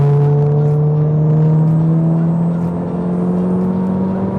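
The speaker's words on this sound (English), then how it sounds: "Give it a little bit more throttle." A turbocharged car engine, recently fitted with a turbo kit, drones at a steady, slowly rising pitch as more throttle is fed in, loud and close with no talking.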